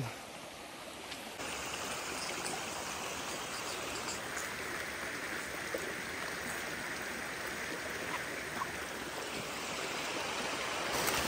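Water pours steadily at Ermai Falls near Dharmasthala, a dense, even rushing roar that holds at one level from start to finish with no voices over it.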